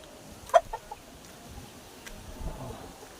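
A chicken gives a short, sharp cluck followed by a few softer clucks, close by in a quiet farmyard setting with faint background noise.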